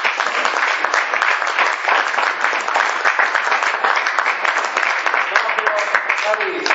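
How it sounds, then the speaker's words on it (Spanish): A theatre audience at the Teatro Vico applauds steadily and fairly close, a dense, continuous wash of clapping that holds evenly for about seven seconds with faint voices mixed in. "un aplauso al Teatro Vico."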